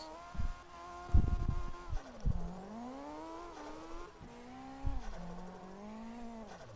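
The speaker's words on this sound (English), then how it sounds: "Oh, the turbo flutter." A car in the video game CarX Drift Racing revs with rising and falling engine tones, broken by several short, sharp turbo flutter bursts, heard alone at moderate level.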